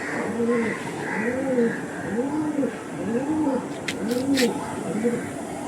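Pigeons, including Madras pigeons offered for sale, coo in a steady repeating rhythm of rolling calls, close and clear, over a constant background hiss, with a couple of brief sharp high sounds near the end.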